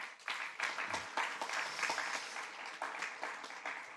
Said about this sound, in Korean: 여러분 먼저 환영의 박수를 한번 하겠습니다